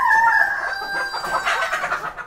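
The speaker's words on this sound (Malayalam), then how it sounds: "ബ്ലാക്ക് സിൽക്കിയും നാടൻ കോഴിയും തമ്മിലുള്ള പോരാണ്" A black Silkie chicken and a native chicken scuffle nearby. Loud, agitated clucking and a crow-like squawk are followed by excited, rhythmic clucks.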